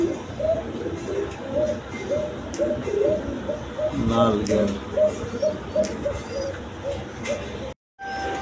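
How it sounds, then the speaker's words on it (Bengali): Racer pigeons coo in a steady, repeated rhythm close by, their soft throaty calls overlapping while someone talks nearby and brief clatters cut in, before a short silence near the end. "এইখানে আরেক পেয়ার রেসার কবুতর আছে দেখেন"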